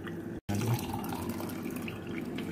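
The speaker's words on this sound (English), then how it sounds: "I pour out the tea out of the pot. In the cup." Fever grass and ginger tea is poured from a pot into a cup, a close, continuous trickling and splashing of liquid with a brief break near the start.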